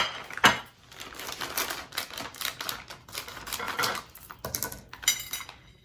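A knife cutting through microwaved zucchini noodle spirals in a home kitchen, giving a quiet, irregular run of soft clicks, taps and scrapes against a dish, with small utensil knocks and no talking.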